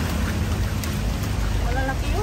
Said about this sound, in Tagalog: umaambon.